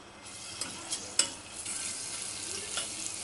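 A spoonful of garlic frying in a little oil in a pot, for a pizza sauce, gives off a soft, quiet sizzle with a few light clinks and one sharper knock from stirring, with no talking.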